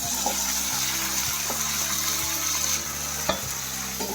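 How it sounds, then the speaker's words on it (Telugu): Chopped tomatoes frying in a pan with ginger garlic paste for an egg tomato curry, making a steady close sizzle with a faint watery bubbling and a few soft knocks of a stirring utensil. "అల్లం వెల్లుల్లి పేస్ట్ కూడా వేగిన తర్వాత ఇలా ముందుగా కట్ చేసి పెట్టుకున్న టమాటా ముక్కల్ని కూడా దీనిలో వేసుకోవాలి."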